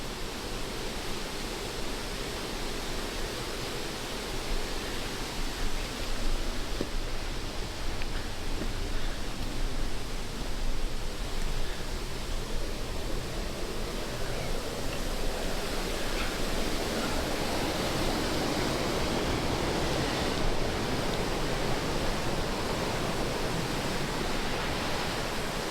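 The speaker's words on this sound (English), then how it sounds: "we're at the top of the waterfall" A waterfall at Pipestone National Monument rushes in a steady, loud broadband roar that holds evenly throughout, with no voices over it.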